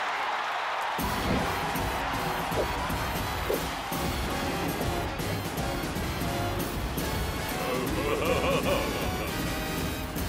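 A cartoon audience applauds and cheers for the Buddy Watkins Buckingham Palace dancers, a dense, steady roar of clapping and crowd noise that swells abruptly and holds loud for about nine seconds.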